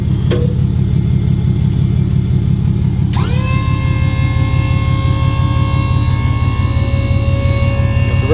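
Hydraulic car lift in a garage raising a race car during drift weekend prep: a steady motor hum and rumble starts up, then rises into a sustained whine with a rising pitch that holds to the end.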